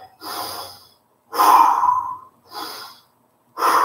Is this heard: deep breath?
yes